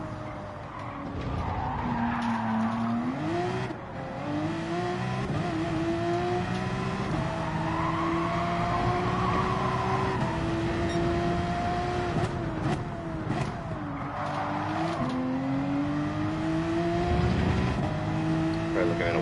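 A race car in Gran Turismo 7 corners with sustained tire squeal and skidding while its engine pitch rises and falls through the gears, steady and close throughout, with a voice talking over it.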